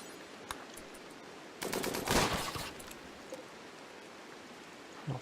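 A brief burst of gunfire in RimWorld, a short rattling volley of rapid shots mid-scene, fairly faint against a quiet ambient background, with a few isolated clicks before and after.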